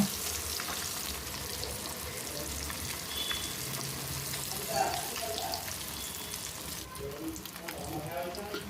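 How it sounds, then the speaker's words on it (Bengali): Pieces of katla fish fry in hot oil in a pan, giving a steady soft sizzle throughout with a few brief clinks partway through, as a cook turns the fish to brown the second side. "তো মাছটা এখানে এক সাইড ভাজা হয়ে গেছে আমি এবার উল্টে দিলাম দ্বিতীয় সাইডটা ভালো করে ভেজে নেওয়ার জন্য"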